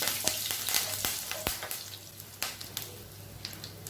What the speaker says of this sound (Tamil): இது எல்லாமே எண்ணெயில் நல்லா வறுபடணும்.